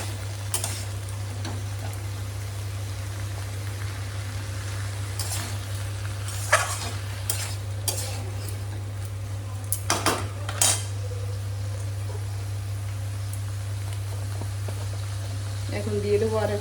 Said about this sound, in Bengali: সমস্তগুলো একসঙ্গে এভাবে নাড়াচাড়া করে মিশিয়ে নিয়ে